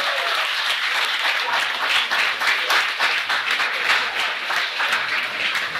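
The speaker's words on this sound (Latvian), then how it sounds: "Aplausi Bogdanai Kondrašinai." An audience applauds steadily and loudly at a live event in a Latvian-language setting, dense clapping sustained throughout with no pauses.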